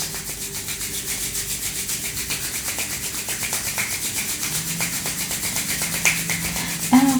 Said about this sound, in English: And we'll rub the palms together today,